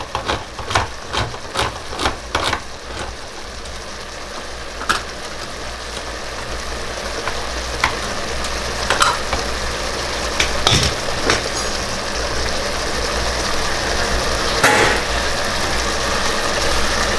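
Crushed tomatoes fry in a pan with a steady, close sizzle, a few sharp clicks and knocks at the start, then continuous bubbling hiss as they are stirred.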